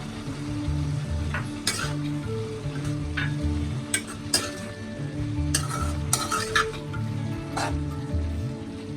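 Prawns frying with cabbage in a pan for poriyal, a continuous close sizzle broken by repeated sharp scrapes and clinks of a spatula stirring against the metal.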